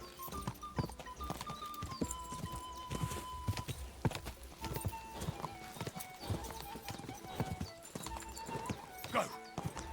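A horse gallops in the medieval video game Kingdom Come Deliverance II, steady quick clip-clop hoofbeats running throughout with an occasional whinny, close and prominent under scattered voices.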